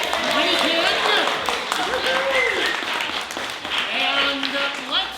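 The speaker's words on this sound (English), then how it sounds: "I want you to give a big round of applause for our scene announcer, Winnie Kid." A theatre audience at a Mystery of the Crimson Crow performance applauds steadily for several seconds, with a voice talking and calling out over the continuous clapping.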